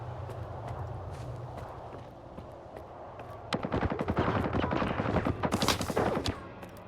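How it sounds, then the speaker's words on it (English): Enemy gunfire in the S.T.A.L.K.E.R. 2 video game erupts into a dense, rapid burst of sharp shots that crackle loudly for a few seconds over a low ambient rumble. "Were we just getting shot at and they missed like every shot?"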